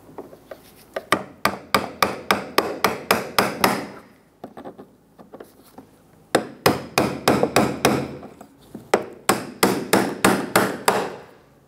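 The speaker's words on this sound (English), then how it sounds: "Use your brass punch to secure that." A brass punch is tapped repeatedly to seat the fuel pump lock ring on a 2011–2019 Ford Explorer 3.5L, three quick bursts of close, sharp metallic hits, each run speeding up, separated by short pauses.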